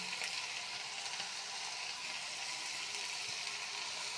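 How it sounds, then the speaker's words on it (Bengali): Prawns hit a hot pan of curry and set off a steady, close sizzling hiss of frying that carries on evenly with no talking. "এখন দিয়ে দিচ্ছি চিংড়ি।"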